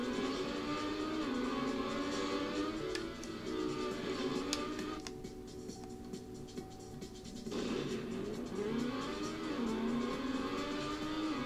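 Race car engine revving loudly and continuously in the video game Trackmania Nations Forever, its pitch rising and falling through gear shifts, with a brief thinner stretch midway before the full roar returns.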